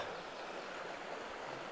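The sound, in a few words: river flowing water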